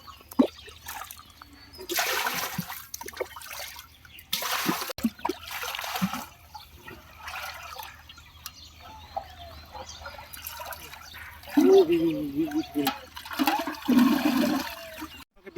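Water is sloshed and churned by hand to mix fish feed of egg yolk and mustard oil for a fish fry pond, with splashy bursts coming in waves. Near the end the swishing turns louder and closer, and faint ambient noise runs beneath.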